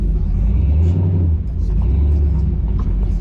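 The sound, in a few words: LS swapped Chevrolet C10 truck accelerating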